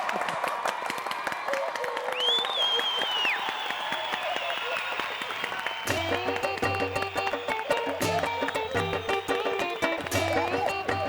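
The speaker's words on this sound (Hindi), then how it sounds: "भाई एक बार जोरदार तालियां हो जाएं गोपीनाथ गंडोत्रा जी के लिए" An audience applauds warmly for Gopinath Gandotra at a comedy show, a steady wash of clapping and crowd noise that swells and carries on over background music.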